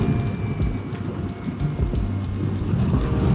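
Kawasaki KLE500 adventure motorcycle riding off-road on rough roads, a steady low engine rumble mixed with heavy wind buffeting across the whole stretch, no talking.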